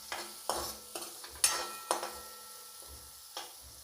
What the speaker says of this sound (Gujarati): ½ ટીસ્પૂન હિંગ નાખીશું અને થોડીક ડુંગળી નાખીશું અને આને સરખી રીતે હલાવી દઈશું